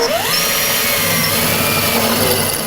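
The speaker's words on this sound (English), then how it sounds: "Let's start drilling holes." A loud, close power drill runs continuously while drilling holes in a wall for a microwave installation, its high motor whine climbing briefly at the start and then holding steady throughout.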